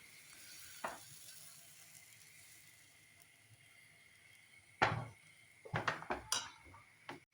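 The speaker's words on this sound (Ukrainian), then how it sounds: "Смажу на середньому вогні." Chocolate crepe batter sizzles softly in a frying pan over medium heat, a faint steady hiss broken by a few sharp clinks and scrapes of a utensil against the pan near the end.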